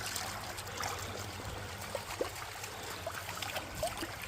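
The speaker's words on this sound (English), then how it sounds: "how the water's flowing through there. We're redirecting a lot of it here." Water flowing through a creek during gold prospecting and bedrock crevicing, a steady close trickle and gurgle that continues throughout.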